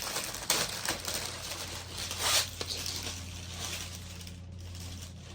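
Plastic crinkles and rustles close by as a bag is pulled open, with scattered crackling bursts and soft handling noise, fairly quiet.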